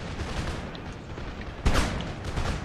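Video game gunfire crackles faintly in rapid bursts, with a louder blast partway through and continued shooting afterward.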